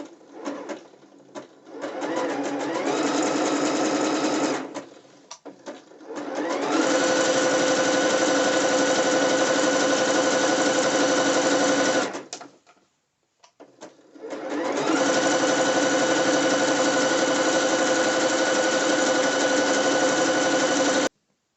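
Sewing machine stitching elastic bands onto exotic dancewear, running in three loud, steady bursts of rapid mechanical whirring with brief pauses between, close up and with no talking over it.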